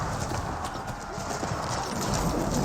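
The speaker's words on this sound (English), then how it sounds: "This horse is starting to advance on forward." Horse hooves clip-clop in the Age of Empires 4 real-time strategy game, a soft, continuous patter under dense battle ambience and a commentator's voice.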